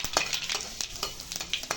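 Panch phoron spices sizzling in hot oil, a close crisp spitting with quick crackling bursts and light scraping, no talking.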